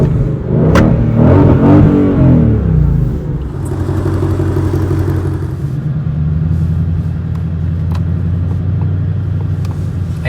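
A Ford Mustang Shelby GT500 revs and accelerates hard with a loud, deep engine roar that builds, then settles into a steady, strong rumble, heard close and with no talk.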